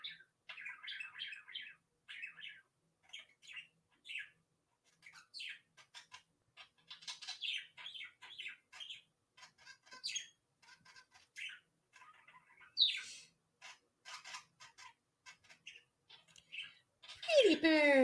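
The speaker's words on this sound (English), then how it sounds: "Pretty bird. Pretty bird. You're being so sweet. You're talking so soft. Such a good bird." A pet bird chirps and tweets softly in a quiet room, with many short calls in irregular bursts and a louder flurry near the end; no voice is heard.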